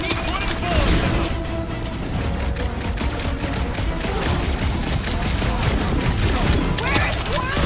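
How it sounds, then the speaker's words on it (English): Dense, rapid gunfire in a Marvel's Guardians of the Galaxy battle, a loud continuous fusillade of shots with booms under it, steady throughout, with voices speaking over the combat. "I'll keep putting bullets in them."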